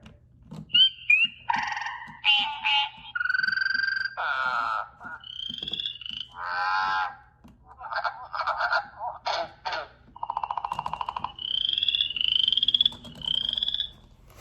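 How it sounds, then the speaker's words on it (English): Many frog calls overlap and alternate: croaks, trills and honking chirps in quick bursts, loud and close, with no gaps of silence. "gather all the frogs together and hear them sing"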